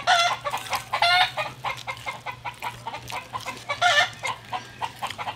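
Chickens cluck and call in a rapid, busy outdoor chorus, with a rooster's crow rising twice, close and fairly loud over a steady low hum.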